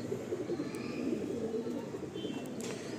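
A Mesia pigeon in a loft cooing low and soft, repeated gentle coos under a steady background hum, fairly faint and close.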